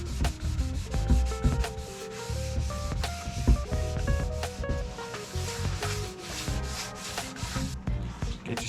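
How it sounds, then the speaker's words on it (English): A blue dish pad scrapes straight back and forth across a snowboard base during waxing, giving a steady, close rubbing rasp with rhythmic strokes and no talk. "I'm just gonna put it down, scraping back and forth, one hand on top of the other, but never in a circular motion, just straight back and forth on the snowboard."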